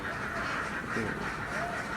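Egg-laying ducks, fed on snails, quack on a village farm. The quacking is faint and comes from a distance, mixed into steady background noise and rustling.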